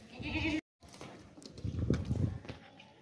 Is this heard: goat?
yes